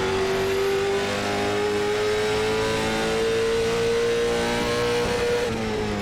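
A Late Model Stock race car engine in the iRacing sim at USA International Speedway roars steadily at high revs, its pitch rising slowly, loud and continuous with no voices.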